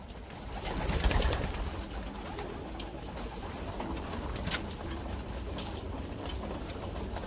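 Pigeons coo softly outdoors at a pigeon loft amid a steady wash of background noise, their low calls blending into the ambient hum.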